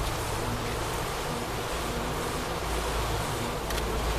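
Honeybees buzz in a dense, steady drone close by, a continuous swarm hum with no pauses and no voices.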